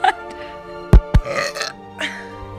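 A woman lets out a pair of loud, close, juicy burps in quick succession after drinking something carbonated, followed by softer throaty sounds and breathing.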